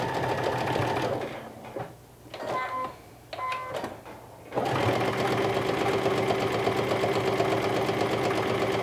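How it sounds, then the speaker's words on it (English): A sewing machine stitches fabric in fast, steady mechanical chatter, pausing briefly for a couple of short bursts before running continuously again at close range. "I like to do my first stitch on the machine, on the sewing machine"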